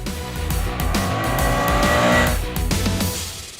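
A KTM 250 Adventure motorcycle is ridden with a loud, steady engine drone that climbs and falls through the revs, close and continuous, with wind noise and no voices.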